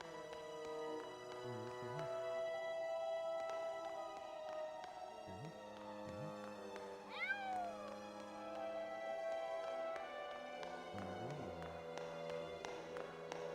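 Inside the video game Grim Fandango Remastered, a single short cat meow rises and falls midway through, heard over continuous layered game music.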